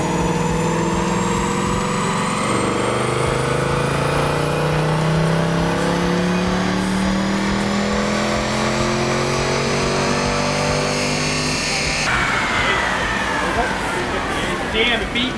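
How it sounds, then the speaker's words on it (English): A car run at full throttle on a dynamometer, its engine note climbing steadily in pitch as the revs build, loud and close, then a sudden shift near the end into a rougher, busier roar. "they floor it on the dyno and it'll spit out a horsepower reading"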